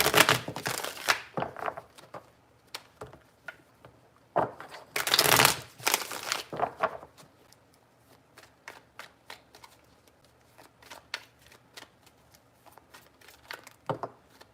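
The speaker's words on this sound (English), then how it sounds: "Three shuffles." A deck of tarot cards is shuffled in several bursts of riffling and slapping, loudest early and around the middle, then giving way to lighter taps and handling noises.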